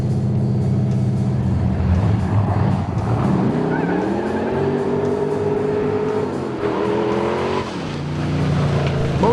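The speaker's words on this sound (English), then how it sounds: "15-inch drag slicks grab the track as the big Ford twists and squats on launch." A 1963 Ford Galaxie 427 lightweight drag car on 15-inch slicks launches with loud, close engine roar, its pitch climbing and dipping in repeated sweeps through the run.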